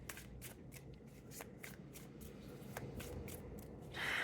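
Tarot cards are shuffled by hand nearby in soft, repeated riffling flicks over a low background hiss, ending in a brief louder swish.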